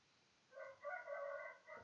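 A rooster crows in the distance, a faint drawn-out cock-a-doodle-doo in several rising and falling segments over a quiet background.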